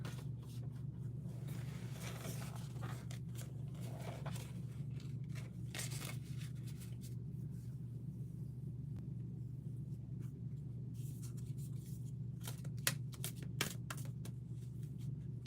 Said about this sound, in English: Oh god, we're dropping cards.